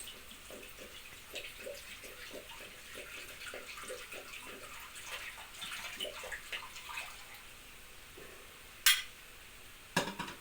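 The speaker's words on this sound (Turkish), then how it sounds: "Bir buçuk su bardağı kadar sütümüz vardı. Kabımıza onu alıyoruz." About one and a half glasses of milk stream steadily into a mixing bowl for crepe batter, a soft continuous liquid rush that is fairly faint, followed by two sharp clinks of the bowl near the end.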